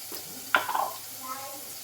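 Ingredients sautéing in a pan for a Kerala-style fish curry with kudampuli: a quiet sizzle with one short burst of stirring and scraping near the middle, close and faint.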